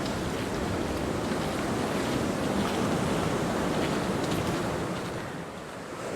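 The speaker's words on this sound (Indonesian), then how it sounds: "Ombaknya gede banget ya" Big ocean waves crash continuously on the south coast, a dense, roaring wash of surf mixed with wind buffeting, heard close and loud throughout.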